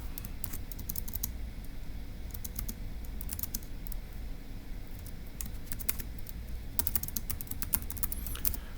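Keys on a computer keyboard are typed in quick bursts of close, crisp clicks with short pauses between them, over a quiet background.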